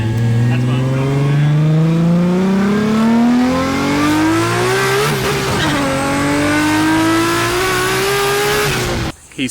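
A project car accelerates hard from a launch without brake boosting, its engine note climbing steadily through the revs, easing briefly, then pulling again, loud and close with some tire noise.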